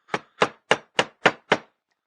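Six sharp, evenly spaced strikes of a big gouge chisel carving wood, each a close, crisp knock about a quarter second apart, then silence.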